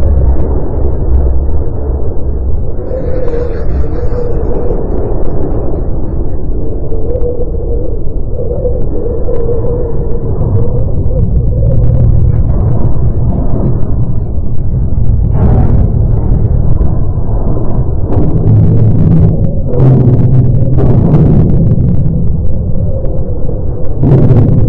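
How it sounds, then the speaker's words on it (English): A NASA recording from the surface of Mars, a continuous low rumbling wind roar with shifting muffled gusts and faint thumps, steady and loud with no voices. "Here is the sound of the red planet Mars."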